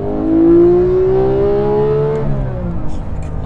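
A manual Porsche GT3 accelerates hard, its engine note climbing steadily in pitch and loudness before easing off, followed by faint mechanical noise; the sound is close and dominant.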